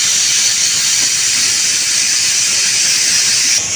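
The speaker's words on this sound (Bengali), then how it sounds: "ডিম ভেজে নিয়ে ওই তেলের মধ্যে আমি একটু পেঁয়াজ আর মরিচ, কাঁচামরিচ ভেজে নিলাম" Onion and green chillies fry in the oil left over from frying eggs, producing a loud, dense, continuous hiss that holds steady throughout.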